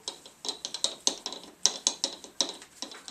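A hand ratchet clicks in quick, close bursts while tightening the fork leg bolts on a motorcycle during a fork seal replacement, with several short runs of sharp pawl ticks and no talking.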